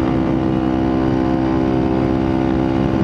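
A Yamaha XTZ 125 motorcycle engine roars steadily up close, a loud, even single-cylinder drone with a strong low hum and no speech over it.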